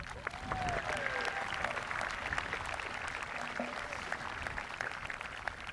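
Sustained audience applause fills a high school Class of 2023 graduation ceremony, a steady dense wash of clapping from a large crowd lasting throughout, with no talk over it.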